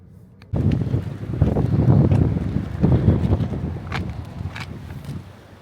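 Strong wind gusts outdoors buffet the microphone after a sudden onset, roaring unevenly in surges before easing toward the end, with no talk over it.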